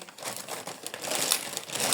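Continuous crinkling and rustling of a plastic shopping bag as groceries are taken out of it, close and busy, with no talk over it.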